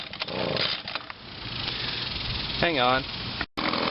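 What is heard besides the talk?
Echo PB-2100 two-stroke blower engine running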